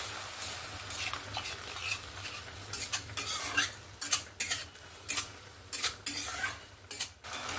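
Ground spices loosened with a little water sizzle softly in a pan for crab curry while a spatula scrapes and knocks against the pan in rhythmic strokes, growing busier toward the end.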